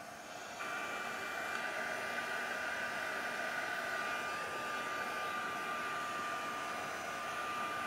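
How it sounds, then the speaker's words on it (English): A heat gun blowing to dry liquid alcohol ink, a steady airy whoosh with a faint whine that switches on abruptly and runs on evenly. "I'm just going to hit this with the heat gun to dry it off"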